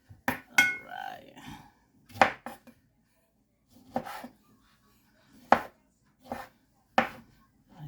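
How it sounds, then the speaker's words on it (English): Tomatoes chopped with a knife on a cutting board, a series of crisp, hard knocks in loose clusters with short pauses between them, close and clear, with a little speech near the start. "Let's cut the tomatoes."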